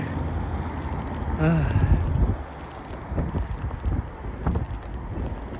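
Gusty wind buffets the microphone while cycling on the Eglinton East bike path, in low rumbling waves, with a brief whistling tone and some muffled movement noise.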